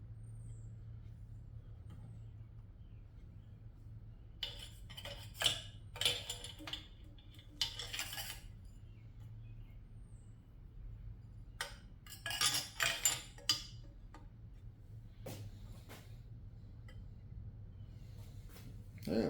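Metal pushrods coated with assembly lube slide into a VW engine. Short bursts of light metallic clinks and scrapes come in clusters, close but faint, over a low hum.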